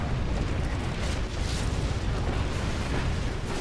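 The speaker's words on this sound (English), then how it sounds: "Artillery coming in from Marakar." Artillery shells landing in the real-time strategy game Sand Scorpion, a dense, continuous rumble of booming impacts with no talk.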